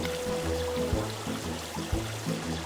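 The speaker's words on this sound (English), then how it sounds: "Now let's try opening the hot water." Hot shower water streams in the Kick The Buddy game, a soft continuous trickle beneath a looping low music bed with periodic thumps.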